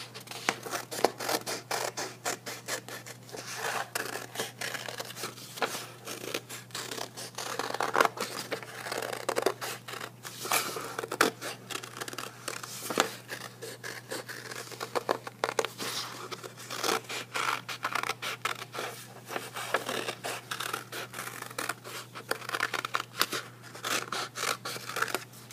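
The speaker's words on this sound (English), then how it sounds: "Scissors." Scissors snip through paper for a kindergarten turtle shell weaving craft, giving steady close crisp cuts and scraping rasps in a quiet room for nearly half a minute.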